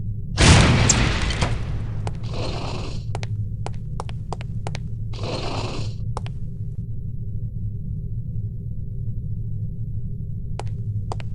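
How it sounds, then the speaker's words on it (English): In No One Lives Forever, an explosive lipstick detonates with one loud boom and crackling burst, then fades into a low steady hum broken by short sharp clicks and two brief hissing whooshes. "These relatively inconspicuous-looking lipsticks are actually powerful explosive devices that detonate on impact."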